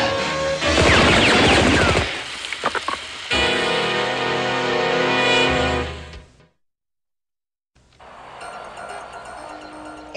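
Cartoon gunfire from an animated show comes as loud rapid volleys of shots with crashing impacts. After a short silence, a fainter rattle of further firing follows.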